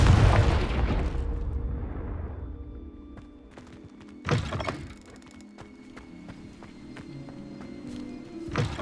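A Confringo spell blast in Hogwarts Legacy, a loud booming burst at the start that fades out, followed by a second thumping impact partway through amid scattered game effects and footsteps.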